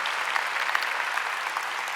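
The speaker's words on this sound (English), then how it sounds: "Let's do a big round of applause for Gordon." Steady applause from a summit audience honors Gordon Smith at an opioid response summit, a continuous wash of many hands clapping at moderate volume, no voices over it.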